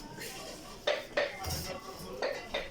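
Cooking pots clank as they are handled, a few sharp metallic knocks and clinks spaced irregularly, close but fairly quiet, with no talk.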